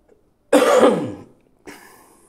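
Two close, harsh coughs, the first long and forceful, the second shorter and softer, with silence around them, during a sewing lesson.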